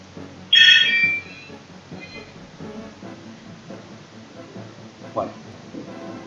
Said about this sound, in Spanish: suena el teléfono ahora